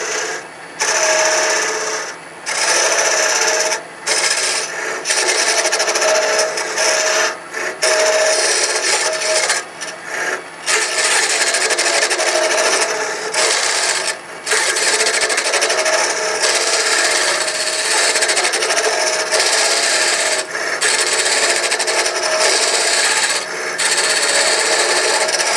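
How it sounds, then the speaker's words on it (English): Wood hollowing on a lathe spinning at about 1,000 rpm, a steady loud scraping rasp from the cutter that runs throughout with brief dips as the tool lifts off the wood. "Now in real time we are going to turn this thing on and start hollowing"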